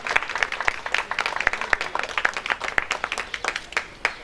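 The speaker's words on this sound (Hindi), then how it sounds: "प्रवीण सोलंकी। तालियां बजाइए।" A modest crowd claps at a ration kit distribution event, with distinct individual hand claps standing out sharply over a thinner bed of applause, fairly close and loud, lasting about four seconds with no speech.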